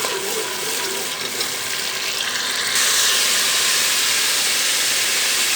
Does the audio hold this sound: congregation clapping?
no